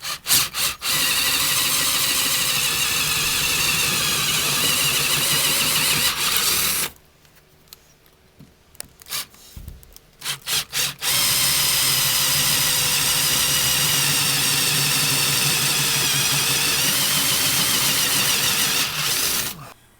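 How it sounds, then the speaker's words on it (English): 3/8 drill boring through a Mercedes Sprinter van's front door panel, a loud, close whirring and grinding in two long bursts separated by a short pause with small clicks. "use a 3/8 drill, and you're going to exercise control on this because you don't want to go flying through"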